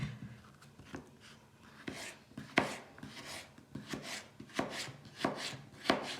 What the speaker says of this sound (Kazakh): Енді мына қолымдағы картопты осыны жұқалап кесіп, соломка сияқты кесіп көрсетемін.